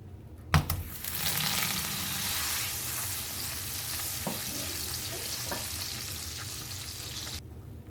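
Butter heats in a pan and breaks into a steady, close sizzle after a sharp clunk at the start, holding an even frying hiss with a few faint clicks before stopping abruptly.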